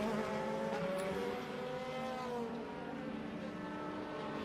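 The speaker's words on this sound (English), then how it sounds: "So we follow the BMW around this circuit here at Zandvoort as the sparks fly." A BMW DTM race car laps the Zandvoort circuit during 2014 qualifying, its engine wailing loud and steady with a shifting pitch as it accelerates and lifts through the corners.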